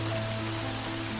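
Steady, dense rain pours down on a rainy day outside a street food cart in the video game Troubleshooter: Abandoned Children, a loud, continuous hiss with no voices.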